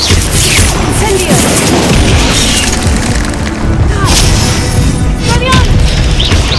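Loud, dense magical blasts and booms from the Incendio fire spell in Hogwarts Legacy fill the scene continuously, with battle sounds and a shouted voice mixed in.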